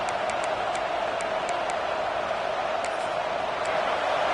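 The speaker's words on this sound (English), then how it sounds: "This crowd trying to make life miserable for this offense." Steady roar of a stadium crowd at a football game, loud and continuous throughout with faint sharp ticks on top and no clear talk.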